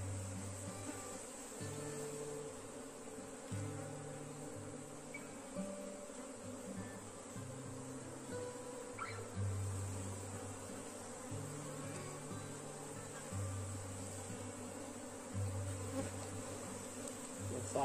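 Honey bees drone steadily around an opened beehive, a dense, continuous buzzing close by, with individual bees swelling louder as they pass near, and no talk.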